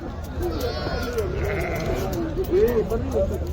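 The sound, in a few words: sheep bleating at a livestock market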